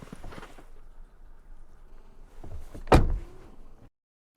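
A door slides and then shuts with a sharp thud, preceded by soft rustling and shuffling, fairly close.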